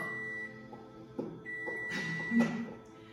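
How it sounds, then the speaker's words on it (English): A timer going off at the end of an indoor yoga practice sounds as a steady electronic tone, followed by a few brief beeps and soft bursts of room noise. "The timer has gone off."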